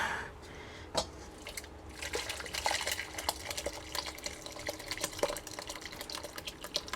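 Homemade orange and lime cordial is poured and drained in an off-grid kitchen, giving soft trickling and dripping with occasional light clinks of containers, quiet and close.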